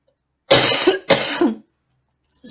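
Two harsh, close coughs in quick succession, each about half a second, then silence.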